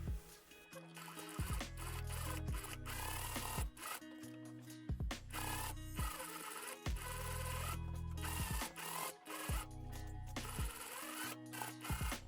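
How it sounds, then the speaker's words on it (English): A sewing machine stitches around the pocket of a quilted jacket. It runs in a string of short, even bursts separated by brief pauses, loud and close, with no talk. "And now I'm just gonna sew right around here."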